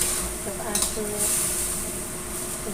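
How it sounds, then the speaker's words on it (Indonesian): Chicken spaghetti sauce with tomatoes is stirred in a pan, a short spell of soft scraping and gentle sizzling up close. "Aduk"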